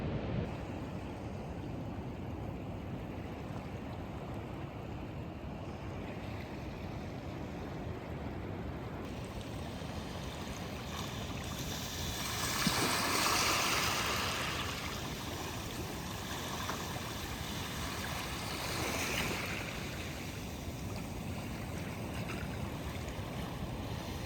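Ocean waves wash steadily on the coast along the Ozette Triangle backpacking route, a soft continuous surf with a few louder swells building and receding, no voices.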